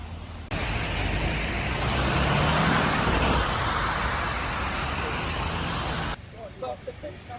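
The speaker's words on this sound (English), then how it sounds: "Here comes the big bus." A double-decker bus approaches through rainy London traffic, a broad loud wash of engine and tyre hiss on wet road that swells and holds, then cuts off abruptly, with voices audible at the end.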